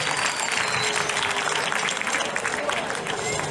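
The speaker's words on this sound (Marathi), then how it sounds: "जोराने एकदा त्यांच्यासाठी टाळ्या वाजवायच्या त्यांचं स्वागत करायचं" An audience at a school gathering applauds to welcome a visiting legislator, a loud, dense burst of clapping that fills the whole moment.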